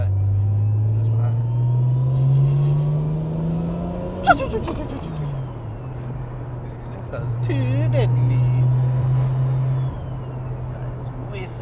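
A Nissan Skyline R33 GTR drives with a steady engine drone while a thin turbo whistle rises and falls above it. Voices talk over the car throughout.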